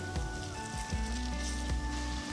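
Ginger-garlic paste and green chillies sizzle softly in a hot pan, a faint, steady crackle with a few light stirring taps over a low background hum.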